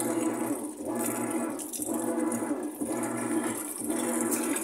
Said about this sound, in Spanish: Está censando, pesando la ropa y le está echando agua.